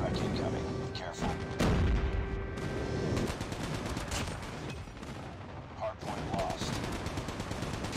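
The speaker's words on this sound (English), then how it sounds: "Enemy airstrike incoming" Enemy airstrike explosions and gunfire in the mobile shooter COD Mobile: a heavy boom, then scattered shots and blasts rumbling on at a loud level, with a player's voice talking over the mix.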